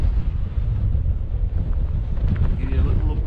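Strong wind buffets the microphone with a constant low rumble and gusty roar on an exposed mountain summit in the Cairngorms.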